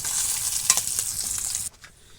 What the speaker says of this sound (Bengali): দেখো আমার মাছগুলো সব ভাজা হয়ে গেছে, আমি এক এক করে করে নামিয়ে নিচ্ছি